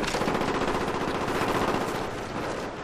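Sustained automatic gunfire in Call of Duty Black Ops, a dense, loud, continuous burst of rapid shots with no pauses.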